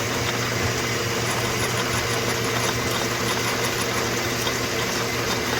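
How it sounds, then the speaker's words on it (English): A hand-started metal lathe without its startup capacitor runs at full speed in a home shop, giving a loud, steady motor hum and whirring vibration with no pauses. "Don't mind the lack of startup capacitor on my lathe, so I got to hand start it."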